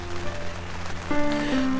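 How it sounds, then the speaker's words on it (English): Steady rain patters over an open field during a spring turkey hunt, a continuous close hiss with no voices. "The rain's picked up."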